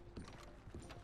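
Horse hooves clip-clopping in the Western video game Red Dead Redemption 2, a quiet, steady rhythm of hoof beats at walking pace, fairly close and alone.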